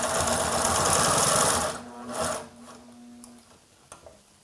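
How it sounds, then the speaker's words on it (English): An HDSew PortaWalker walking foot sewing machine stitches through vinyl with a fast, steady mechanical chatter up close, then slows and stops, leaving a few soft clicks and handling sounds. "if you want to sew some vinyl, you got no problem sewing vinyl."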